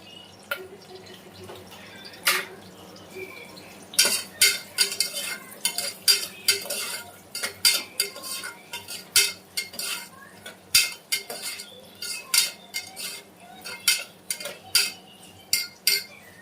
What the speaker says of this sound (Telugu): ఇలా ఫ్రై చేసుకోవాలన్నమాట. ఆనియన్స్ ఫ్రై అయ్యేంత వరకు ఫ్రై చేసుకోవాలి.